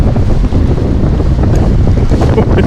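Strong storm wind gusts across a riverbank during steelhead bank fishing on the Cowlitz River, a loud, continuous buffeting roar of wind noise on the microphone with no pauses and no talking.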